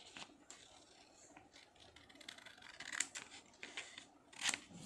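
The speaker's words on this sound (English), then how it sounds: "I'll start cutting my patterns." Scissors snip through paper sewing patterns for a shaped neckline finish, a run of soft crisp cuts with two sharper snips late on, fairly close and quiet.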